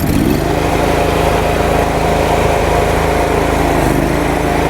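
A Ditch Witch trencher's small engine opened to full throttle, loud and close, climbing briefly in the first half-second and then holding a steady, buzzing high-revving drone.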